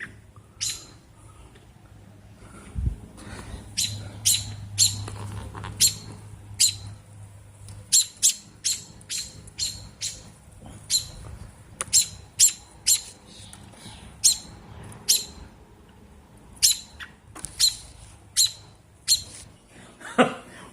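A female robin defending her nest gives a long series of sharp, loud squawks and chirps at close range, repeating irregularly about once a second over a low background rumble.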